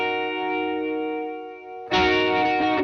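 An electric guitar through a Gamechanger Audio pedal with its LFO-driven chorus, a sustained chord warbling steadily before a fresh loud strum rings out near the end, dense and shimmering.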